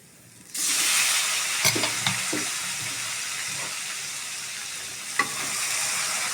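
Meat pieces drop into a hot pan and burst into a loud sizzle, frying steadily while a utensil scrapes and clanks a few times as the meat is stirred and browned.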